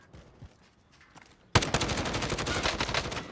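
Video game gunfire erupts suddenly after a quiet stretch, a loud rapid burst of automatic shots hammering steadily near the listener until the end.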